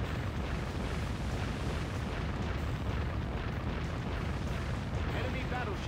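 Heavy naval cannon fire and a steady wash of explosions from the warship combat game Warship Gunner 2, a dense continuous rumble of booms with no clear gaps, and voices present in the background.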